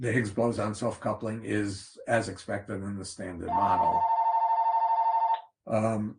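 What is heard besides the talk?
phone ringing during a lecture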